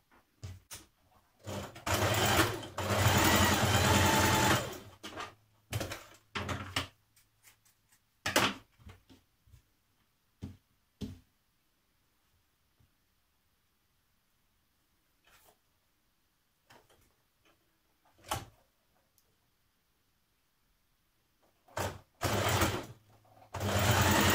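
A sewing machine stitches the shoulder seams of a Simplicity 8052 top in several close bursts of whirring run, the longest early on, separated by quiet pauses and small handling clicks, with no talking.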